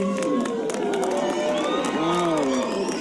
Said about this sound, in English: The crowd is getting excited.